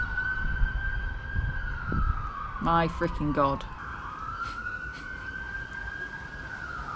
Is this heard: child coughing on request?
no